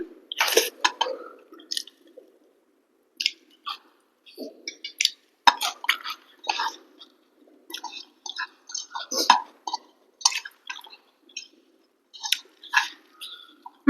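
Mutton curry with rice is eaten by hand, giving soft, close chewing and wet squelching bites in scattered bursts, with occasional light clinks between them.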